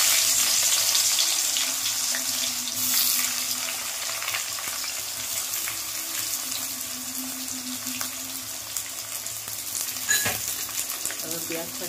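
Chopped onions fry in oil in a pan for a mutton dish, a constant close sizzle with scraping stirs and a brief clatter near the end, no one talking.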